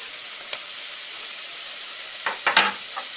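Garlic sizzles in a pot of frying onion and leek, a continuous close hiss with a few sharp crackles and stirring scrapes near the end.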